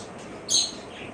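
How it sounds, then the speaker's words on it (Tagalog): A brief, bright bird chirp rises over a quiet background hiss and is gone in a moment. "Maingay mga ibon ko."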